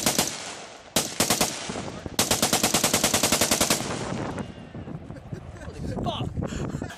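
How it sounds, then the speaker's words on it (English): A machine gun fired at a US shooting range, loud rapid bursts of automatic fire in fast rhythmic volleys, close to the microphone, followed by fading echo and wind noise. "Give Drew a machine gun"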